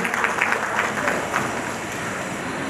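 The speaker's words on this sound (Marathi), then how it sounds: "त्याच्याकरता सुद्धा जोरदार टाळ्या होऊन जाऊ दे." Applause from a crowd at a large women's community gathering in Mira-Bhayandar, a steady wash of many hands clapping with rhythmic bursts, continuous and fairly loud throughout, with some background murmur.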